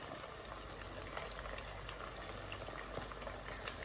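Beef pieces frying in hot oil for crispy chilli beef, giving a steady, dense sizzle with scattered small pops and crackles throughout, fairly close and continuous with no talking.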